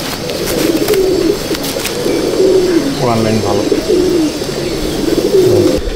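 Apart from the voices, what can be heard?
pigeons cooing in loft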